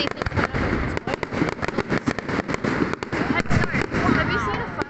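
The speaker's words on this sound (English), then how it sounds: "You see things coming up and exploding." New Year's midnight fireworks burst in a dense, rapid run of crackling pops and bangs, fairly near and loud, with people talking underneath.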